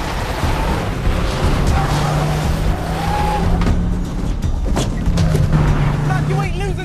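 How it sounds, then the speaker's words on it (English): Black Volkswagen Golf VR6 racing in a police chase at about 60 mph, with a loud, steady engine roar, tire noise and shifting pitch throughout, under a voice on a police radio. "Suspects travelling at 60 miles per hour in a black Golf Volkswagen VR6."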